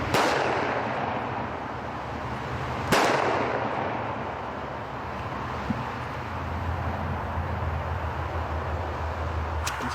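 Two loud rifle shots ring out during a driven hunt, one at the start and another about three seconds later, each followed by a long echoing decay over steady outdoor background noise.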